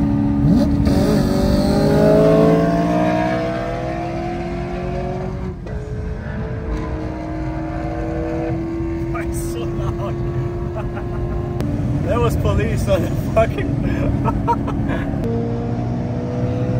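A 700 HP BMW E9X M3 accelerating hard on the Autobahn, its engine note rising through several gear pulls with brief shift breaks, loud and close, with crackling and popping on the overrun.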